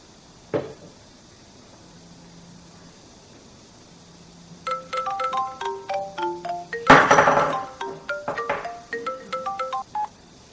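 A telephone being dialed for a call: a quick run of keypad tones in an irregular rhythm, clear and close. A soft thump comes first, then a burst of noise partway through the dialing.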